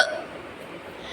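A single short hiccup comes from a person at home, a brief sharp catch at the very start that quickly fades into quiet room tone.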